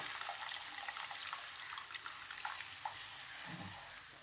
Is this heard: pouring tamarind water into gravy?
yes